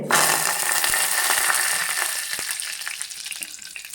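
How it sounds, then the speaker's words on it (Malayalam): Half a teaspoon of mustard seeds splutters and sizzles in hot oil for a Kerala bitter gourd curry. The frying is loud and dense from the start, with scattered seed pops, and eases slightly toward the end with no talk. "എണ്ണ ചൂടായ ശേഷം 1/2 ടീസ്പൂൺ കടുകിട്ട് പൊട്ടിക്കാം."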